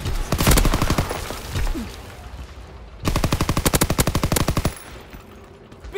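Machine gun fire in the WWII shooter Call of Duty: WWII, on a defensive map by a road and bridge: two loud rapid bursts of close automatic fire, the first about two seconds long, the second after a brief lull.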